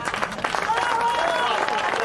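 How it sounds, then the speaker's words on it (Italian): Audience applause at an outdoor comedy performance in a town square, a dense, steady patter of many hands clapping throughout with a voice speaking over it. "Un applauso a Josephine"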